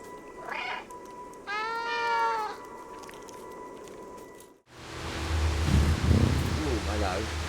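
A cat meows in the video game Stray, two clear rising-falling meows close up over quiet ambience, followed by a louder stretch of game sound with low rumble.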